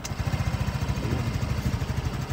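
A Yamaha Mio Gravis 125 scooter's engine idles close by, a quiet, steady low putter with an even pulsing rhythm throughout.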